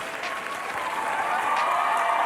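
A studio audience on a dating reality show claps in a steady, dense wash of applause that swells slightly louder toward the end.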